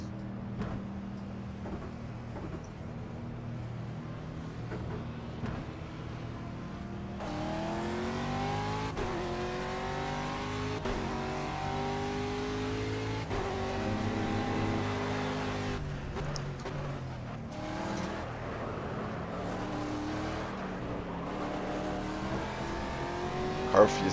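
An Aston Martin V8 Vantage GTE race car in Project CARS laps Le Mans, its V8 engine revving up through the gears with repeated rising pitch sweeps and shifts, held steadily close and loud throughout, with someone talking over it.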